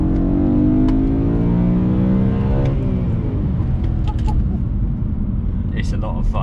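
A BMW E92 M3 engine pulls up through the rev band, its tone climbing steadily from inside the cabin, then easing into a lower rumble, with voices alongside.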